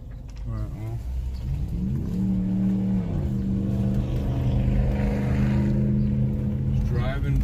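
A 2006 Dodge Magnum driving after a transmission swap, its engine droning steadily inside the cabin as the revs rise and fall through gear shifts, with a low road rumble throughout.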